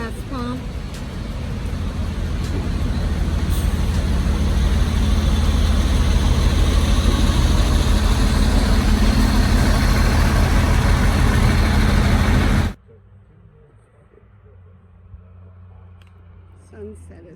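An RV engine idles steadily with a deep low rumble that builds slightly while the vehicle pulls up to a gas pump, then cuts off abruptly near the end, leaving quiet background; voices talk over it.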